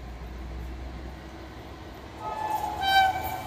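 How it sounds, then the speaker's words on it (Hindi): The Raunakpur Express, hauled by a WAP-7 electric locomotive, pulls away from an Indian railway platform with a low rumble, then a loud horn blast rises near the end of the clip. "पहले प्लेटफॉर्म से रौनकपुर एक्सप्रेस चली।"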